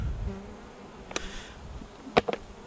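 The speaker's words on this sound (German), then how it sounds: "Nehmen wir Bienen dran." Honey bees at a hive during a beekeeping colony inspection, a low steady hum with short buzzy passes and a few sharp clicks, no talk.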